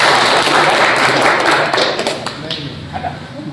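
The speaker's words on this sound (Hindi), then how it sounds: "आप ताली बजा सकते हैं" Audience applause rings out at a New Year event honouring journalists, a dense burst of clapping that thins out toward the end, with voices mixed in.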